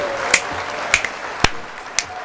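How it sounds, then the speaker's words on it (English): Several sharp snaps and claps, spaced about half a second apart, crisp and close against a faint background hiss. "he's clapping and snapping his fingers"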